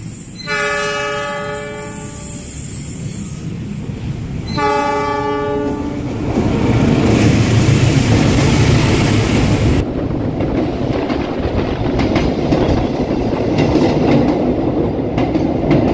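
Argo Parahyangan passenger train from Bandung at night near the Sasak tunnel sounds two loud horn blasts, then passes close with a heavy, steady rumbling roar and wind buffeting.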